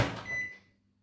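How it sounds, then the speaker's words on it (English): Butter goes into a microwave oven for melting: a short close clunk of the oven door being shut, fading quickly into near silence. "So, in the microwave it goes for"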